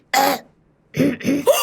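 A person coughs and clears their throat, one short rasping burst followed after a pause by two or three quick, close coughs.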